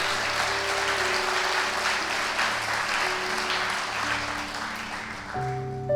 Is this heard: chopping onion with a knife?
no